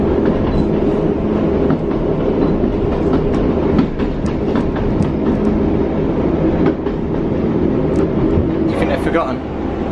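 A train rolls past on a Cornish railway line near St Ives, its loud steady rumble and rhythmic clickety-clack of wheels on rail joints filling the whole stretch, with a few sharp metallic squeals near the end.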